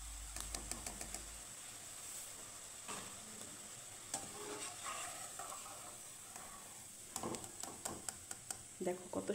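Crispy cabbage pakoras fry in hot oil with a soft, steady sizzle, broken by sharp clicks and scrapes as they are turned and lifted out.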